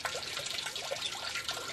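Water pours and trickles from a tipped garden water butt, a steady splashing flow that runs close and continuous for the whole moment without any voices.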